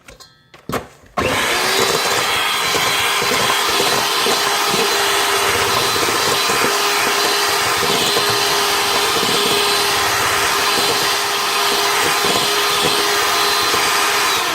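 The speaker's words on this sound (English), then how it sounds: "When you use something enough, eventually the motor just dies out on it." A Sunbeam Mixmaster stand mixer beating cake batter for a nectarine buckle, its worn motor straining with a loud, steady whine and rumble that runs continuously after a brief start, with no talk over it.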